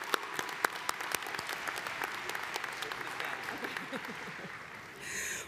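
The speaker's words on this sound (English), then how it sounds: "Let us applaud the accomplishments of the graduating seniors of Landscape Architecture Program." Applause for graduating seniors of a Landscape Architecture program at a 2023 commencement, steady clapping from a large crowd sustained for several seconds before tapering off.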